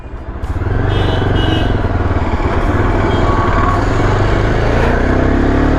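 A Yezdi Adventure motorcycle rides in first gear, its engine a loud, steady, close drone with rough low-end throb that holds level throughout, with no talking.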